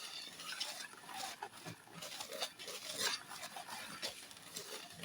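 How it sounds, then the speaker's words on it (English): Bread cake dough ingredients, including flour, being mixed in a bowl, giving quiet, repeated clinks and scrapes of a utensil against the bowl in an uneven stirring rhythm. "So I'm going to mix everything together to make sure they combine thoroughly"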